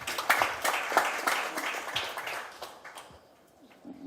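At an indoor briefing, an audience applauds to welcome a lawyer to the podium, a burst of clapping that is strongest at the start and gradually thins out and fades away.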